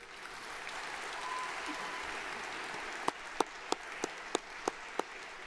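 Faint, distant applause fills a commencement ceremony hall in honour of the staff, with a run of several sharper individual claps close by toward the end.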